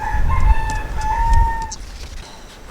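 A rooster crows loudly and close by in one long drawn-out call that tapers off, with a faint scrap of another crow or cluck at the end and no talking.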